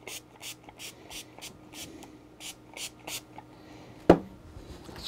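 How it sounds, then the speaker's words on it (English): A spray bottle mists acrylic paints, giving a quick regular series of about ten short, close hissing spritzes, followed by one sharp knock. "Make sure you're always spraying if you want to preserve it."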